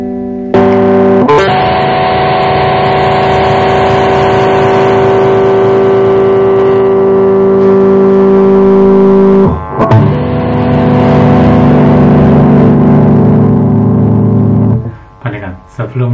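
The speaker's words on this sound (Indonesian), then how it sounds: "ini adalah suara gitar rock" Electric rock guitar played through a distortion effects unit, one long sustained distorted chord ringing loud and steady, then a second struck chord that fades into a few short choppy strums at the end.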